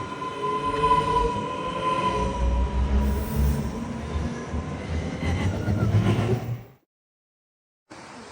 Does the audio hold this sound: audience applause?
no